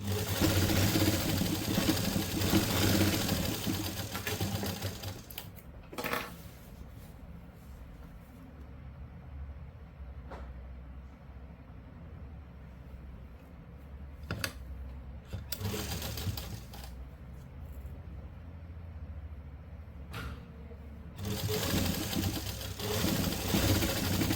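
Sewing machine stitching a simple suit or kurti, loud bursts of fast steady stitching at the start, middle and end, with quieter pauses and light handling noises between runs.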